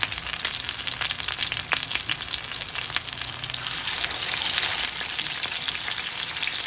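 Hot cooking oil crackles in a pan with a dense, steady sizzle, close and loud, with faint stirring scrapes and no talking.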